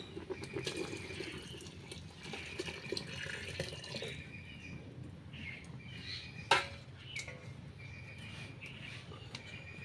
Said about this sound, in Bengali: তো এখন আমি দুধটা ঢেলে দেব।